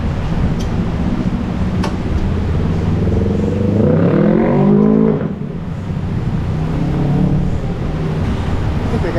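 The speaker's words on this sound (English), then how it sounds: "I think the guy has a problem with his muffler." A car with a faulty muffler idles and revs nearby in an auto repair shop, a loud raspy exhaust drone that rises in pitch around the middle before settling back to a rough idle.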